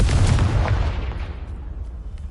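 A Confringo fire spell explodes in the Hogwarts Legacy video game, a loud, dense booming blast that rolls off and decays over about two seconds with no voices.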